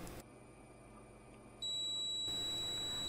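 A continuity tester beeps while its probes bridge mains ground and USB-C ground on a USB tester: a steady electronic tone that jumps to a louder, sharper beep about halfway through, with no voices.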